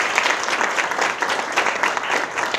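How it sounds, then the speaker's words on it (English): Audience applause fills a summer jobs program awards ceremony, a steady dense clapping from a sizable crowd that holds evenly throughout without pause. "So give yourself a round of applause."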